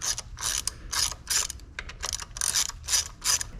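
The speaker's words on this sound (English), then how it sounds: "we're going to take off our 4 housing bolts here. These are 12mm" A hand ratchet loosens 12 mm housing bolts on a Yamaha jet pump in close detail. About eight quick bursts of clicking pawl come in a steady back-and-forth rhythm, with no talk over them.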